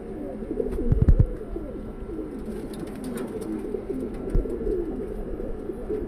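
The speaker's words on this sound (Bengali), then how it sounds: "এখানে নতুন পুরাতন মিলানো সব কবুতর" Domestic pigeons, a mixed flock of old and young birds kept in a loft, coo in a steady low murmur, with a brief louder flutter or thump early on and a soft ongoing chorus close by.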